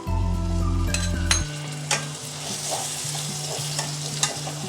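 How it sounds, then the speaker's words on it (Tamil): Finely chopped tomato sizzles in a pan with ginger garlic paste while cooking goat head curry. A low rumble fades after the first seconds, leaving a steady frying hiss broken by occasional scrapes and clinks of stirring. "தக்காளி கொஞ்சம் நல்லா வதங்கி வரட்டும்"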